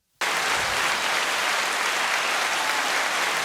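Sustained, dense audience applause that starts abruptly and stays loud and even throughout, a broad wash of many hands clapping at once with no voices standing out.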